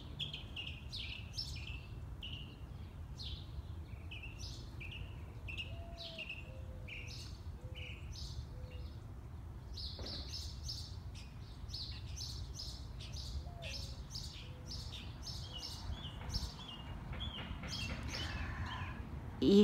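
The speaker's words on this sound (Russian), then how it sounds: "а этот заливается прям соловьем" Small grey birds sing and chirp continuously outdoors, with many bright, rapid trills and tweets overlapping at moderate distance over a steady low background hum.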